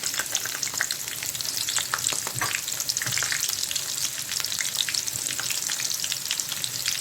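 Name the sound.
rice with vermicelli and onion frying in oil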